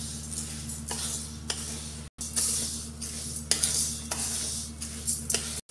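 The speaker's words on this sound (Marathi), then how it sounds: "यामध्ये धणे घालायचे आणि जिरे, हे दोन्हीही मसाले घालून ह्याच्यामध्ये भाजून घ्यायचे" Coriander and cumin seeds dry-roast in a pan over a low flame, giving a soft continuous hiss with light scraping stirs and a steady low hum underneath, no voices.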